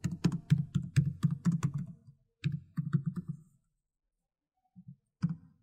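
Code is typed on a computer keyboard in quick bursts of close clicking keystrokes, a steady flurry, then a pause, a shorter burst, silence and a few final isolated taps, with no talking.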